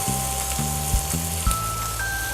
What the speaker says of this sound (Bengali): এবার আমরা এটাতে দিয়ে দিব আমাদের চিড়েগুলো